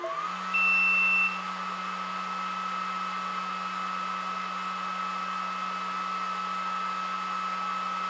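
Atomstack laser engraver powering on: a brief loud electronic beep tone followed by a steady fan whir and a constant electrical hum, heard close and continuous.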